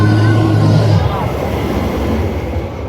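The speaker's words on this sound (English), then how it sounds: "sorry, the train's about to come by." The Dollywood park train rolls past nearby as a loud, steady low rumble that eases slightly after the first second, with a faint voice in the background.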